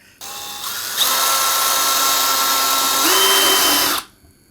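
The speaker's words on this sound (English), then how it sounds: "we've got to do some drilling in our bucket as well" A power drill whines steadily at close range for about four seconds, its pitch shifting slightly as it bores through a plastic bucket, then stops.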